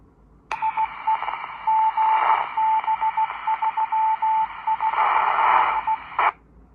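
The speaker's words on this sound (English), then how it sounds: "We've activated the repeater, which is a good sign." An amateur radio repeater answers through a Baofeng handheld fitted with an external antenna: a hissy burst of open carrier with a steady, repeatedly pulsing tone, ending in an abrupt squelch tail, alone and moderately loud.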